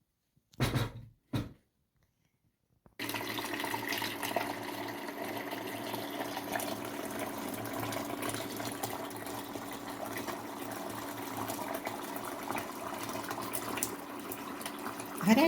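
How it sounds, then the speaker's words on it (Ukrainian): Hot water pours steadily into a large pot set up for sterilizing jars of pickled peppers in tomato sauce, a continuous broadband rush after a few brief bumps at the start. "взяли велику кастрюлю і заливаємо водою"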